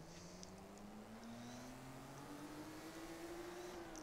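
A car engine in the racing video game Forza Horizon 3 holds a steady drone with a slowly rising pitch throughout, heard alone with no talk over it.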